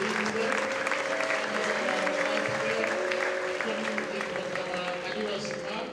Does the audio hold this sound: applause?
yes